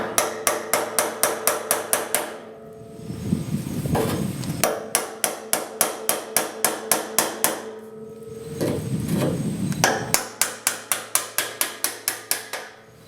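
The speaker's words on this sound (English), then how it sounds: "I'll go ahead and remove the retaining ring that holds the fuel pump in" A hammer taps around the fuel pump retaining ring on a Ford F-150, producing rapid, regular metallic strikes in repeated bursts. Duller scraping or handling noises sit between the bursts, and the strikes are close and loud.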